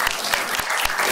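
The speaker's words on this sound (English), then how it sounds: "With applause?" Applause from an audience at a live gaming show, a dense burst of clapping that holds steady for about a second, close and fairly loud with no talk over it.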